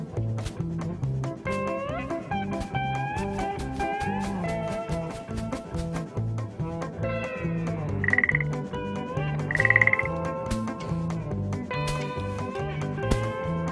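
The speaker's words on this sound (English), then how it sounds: "A frog." A frog croaks repeatedly in a steady, pulsing series of loud, resonant calls, with a few higher chirping tones mixed in.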